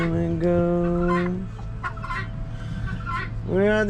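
Chickens on a homestead cluck and squawk nearby in overlapping calls, with a louder rising call at the start and another near the end, and no talking.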